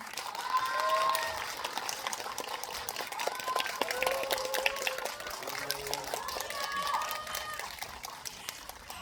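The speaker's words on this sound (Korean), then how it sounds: "큰 박수 부탁드립니다." Audience applause greets actors Lee Dong-hwi and Lee Je-hoon and director Lee Ki-hyuk at a guest visit screening event, a steady crackle of clapping with cheers and voices mixed in throughout.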